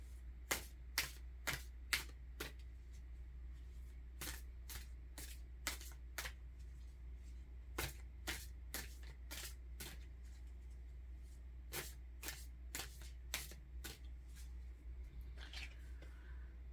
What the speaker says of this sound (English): then I'm going to pull you a flower card, and I'm going to pull you an animal card